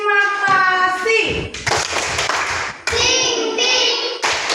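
Children in a classroom clap their hands together in a brief burst of applause, mixed with chattering kid voices and some thumps, loud and close.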